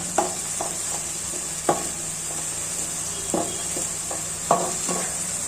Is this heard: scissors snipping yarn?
no